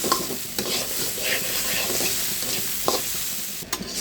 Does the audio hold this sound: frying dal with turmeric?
yes